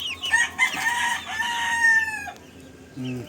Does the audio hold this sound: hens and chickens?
yes